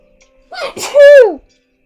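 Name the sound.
sneeze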